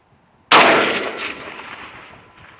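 A single loud, close rifle shot from a Zastava M77 chambered in .308 during accuracy testing, with a sharp crack and a long rolling echo that decays over two seconds.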